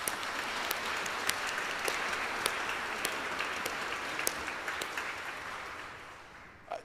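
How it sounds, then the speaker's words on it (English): A church congregation at an Ascension of the Lord service applauds the ushers and choir, steady sustained clapping with a few sharper claps standing out, moderately distant, fading slightly at the end. "How about a big round of applause for everyone?"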